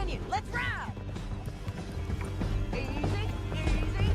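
A horse gallops in Red Dead Redemption 2 with rapid rhythmic hoofbeats on hard ground, close and continuous, joined early by a brief whinny, with voices and ambient game sound mixed in.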